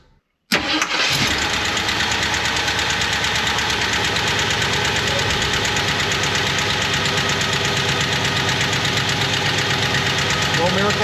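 A Jeep Wagoneer engine cranks and catches after a moment of quiet, then settles into a loud, steady, rough idle that runs unbroken close to the microphone.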